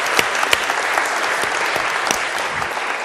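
Audience applause at a church recording session, a steady wash of many hands clapping for about three seconds with a few sharper claps standing out near the front.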